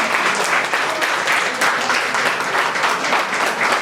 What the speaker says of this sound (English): really give Chairwoman Niabe Criado a round of applause for the work that she has been doing during this legislative session